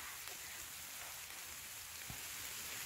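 Heavy rain pours steadily in a forest where cèpe mushrooms grow. The hiss is dense and unbroken, with faint drops pattering nearby and no voices.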